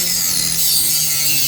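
A flex shaft rotary grinder runs steadily, grinding sharp metal parts embedded in a 3D print, giving a continuous bright, hissing whine with a low motor hum underneath, close and fairly loud throughout.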